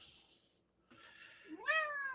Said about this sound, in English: My cat's decided to visit us tonight